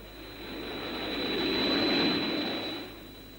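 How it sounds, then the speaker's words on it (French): An aircraft engine approaches with a steady jet-like roar and a sustained high whine. It swells to a peak and then eases off, heard alone without voices. "J'entends quelque chose, Alan. On dirait comme un moteur."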